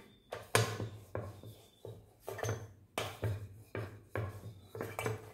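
A wooden rolling pin works chapati dough in steady back-and-forth strokes, each pass a soft rumbling roll ending in a light knock, about two strokes a second, close and quiet without talk.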